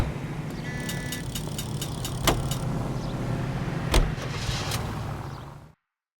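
Car engine running steadily through a drive in the video game L.A. Noire, a continuous low rumble with a few brief clicks and knocks, ending abruptly in silence.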